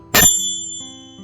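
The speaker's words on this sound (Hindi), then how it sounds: "उनकी घंटी की ध्वनि पूरे वातावरण में गूंज रही है।" A bell in a Navratri healing meditation honoring Maa Chandraghanta is struck once, giving a sharp, bright strike that rings on in a long, shimmering, slowly fading tone.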